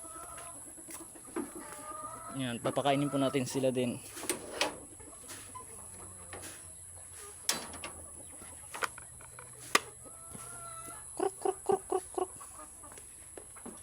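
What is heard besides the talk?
sick chickens clucking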